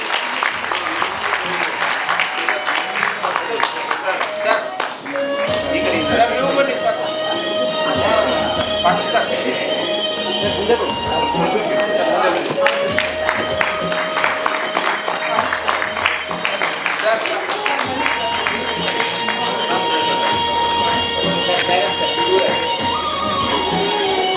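Loud, sustained audience applause at an international women's entrepreneurship day event honoring a guest, with dense clapping that continues throughout while a voice speaks over it and faint music plays.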